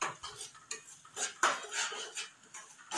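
Food being roasted and stirred in a pan until lightly browned, heard as close, irregular scrapes and clinks of a utensil against the pan, with no voice.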